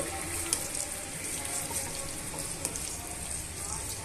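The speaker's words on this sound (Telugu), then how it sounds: "ఇందులోనే మనము కట్ చేసి పెట్టుకున్న ఉల్లిపాయ ముక్కల్ని పచ్చిమిరపకాయ ముక్కల్ని యాడ్ చేసుకోవాలి ఇప్పుడు ఇవన్నీ కూడా బాగా ఫ్రై చేసుకోవాలండి" Chopped onions and green chillies frying with potatoes in a pan: a steady, close hiss of sizzling oil running without pause, with occasional faint pops and light stirring.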